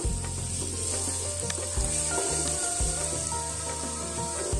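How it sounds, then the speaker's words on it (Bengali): Chopped garlic fries in hot oil for noodles with a continuous loud sizzle, broken by intermittent scraping and clanking from stirring in the pan. "তেলটা যখন গরম হয়ে যাবে তখন এটা দিতে হবে চপ গার্লিক, মানে রসুনটা দিতে হবে"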